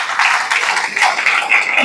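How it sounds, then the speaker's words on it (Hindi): Audience in a seminar hall breaking into loud, sustained applause, a dense wash of clapping that swells in waves with a few louder bursts, heard alone without talk. "दोनों के लिए बहुत जोरदार तालियां"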